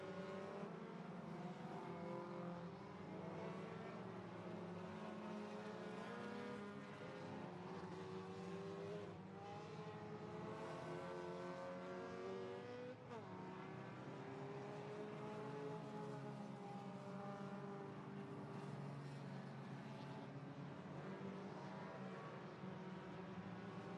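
Race cars at Irwindale Speedway roar continuously around the track in traffic, layered engines droning and shifting in pitch as cars pass, steady and loud throughout without commentary.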